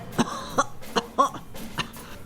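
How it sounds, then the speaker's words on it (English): A person coughs repeatedly in uneven bursts outdoors at Hoxton Square, London, five or so harsh hacks against a steady background hum. "bent over, coughing"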